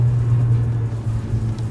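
A Mercedes A45 AMG engine growls in race mode with a steady deep low hum and rumble, close and loud inside the car, briefly dipping before picking up again.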